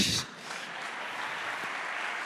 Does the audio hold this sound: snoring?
no